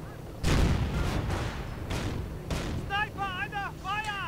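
Heavy machine gun fire rattles through a video game battle between tanks and infantry, with loud booming bursts and rumbling blasts, then warbling whistle-like tones near the end.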